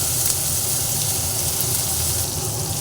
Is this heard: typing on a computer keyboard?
no